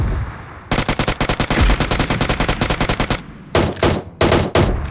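Rapid bursts of automatic gunfire from the video game PUBG, a long sustained volley followed by a few shorter bursts, loud and close with no talking.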